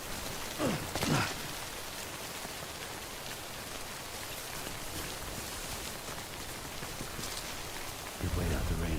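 Steady rain falling outdoors, a continuous dense hiss of drops on surfaces throughout, with a couple of brief louder rustles early on and a low rumble entering near the end.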